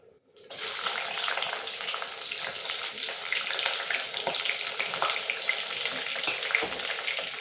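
Steady, loud sizzling of onions and green chilies frying in hot oil begins abruptly and continues evenly throughout, with no talking.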